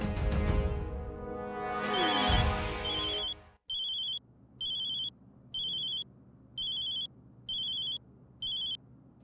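A mobile phone rings with a bright electronic tone repeating in six even pulses after a swell of music, fairly quiet.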